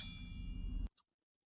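A notification bell ding sounds as a short bright chime right after a steady hum cuts out, leaving a brief ring into silence.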